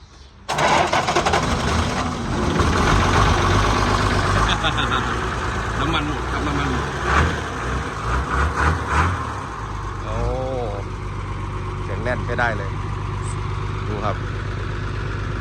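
A used car's engine runs at a steady idle, a low continuous drone held throughout while several people talk nearby.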